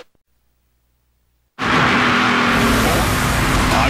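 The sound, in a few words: NASCAR Canadian Tire Series race cars on Trois-Rivieres street circuit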